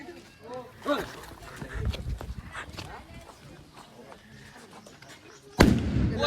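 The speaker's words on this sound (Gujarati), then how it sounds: "ભાઈ મારો જ ફટાકડો આવો ફૂટ્યો" A firecracker bursts at a wedding celebration, one sudden loud bang near the end after a stretch of crowd noise and people talking.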